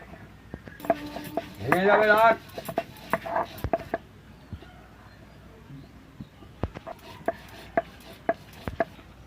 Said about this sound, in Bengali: এখানে আমি আদাগুলো বেটে নেব।